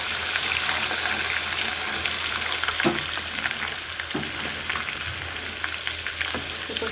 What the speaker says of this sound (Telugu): అల్లం వెల్లుల్లిపాయ పేస్ట్ పచ్చివాసన పోయే వరకు వేగించుకోవాలి